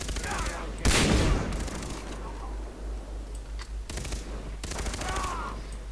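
Bursts of automatic rifle fire ring out in Far Cry 3 multiplayer, a loud rapid volley near the start and sharper shots later, over steady game background noise.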